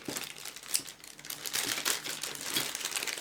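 Small plastic bag of accessories from an RC car kit being opened and handled up close, a steady run of crinkly plastic rustling with a few sharper crackles and no talking.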